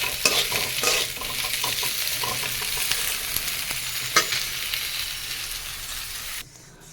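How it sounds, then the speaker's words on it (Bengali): Onions brown in a little oil in a wok, a soft steady sizzle under frequent spatula scrapes and clinks, close by, before the sound drops away abruptly at the end. "পেঁয়াজটাকে আমি হালকা তেলে ব্রাউন করে নেব"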